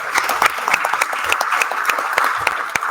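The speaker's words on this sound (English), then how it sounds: "Let's give Mark Jones a round of applause for his years of service" A Rotary club meeting audience gives a round of applause, a moderately sized room of people clapping with distinct individual claps audible through the steady patter.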